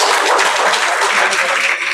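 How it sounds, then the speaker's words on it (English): Dense, continuous applause from an audience at a felicitation ceremony honouring achievers in the Indian Forest Service exam, loud and steady throughout with no gaps. "Let's have a big round of applause for Mr. Arun Kumar"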